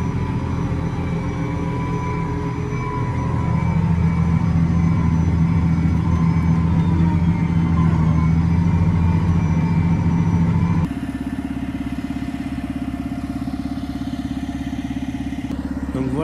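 Tractor pulling a 5-metre Kverneland Turbo 5000F cultivator during soil preparation, a steady loud engine drone with mechanical clatter, heavier in the middle, then a slightly changed tone near the end.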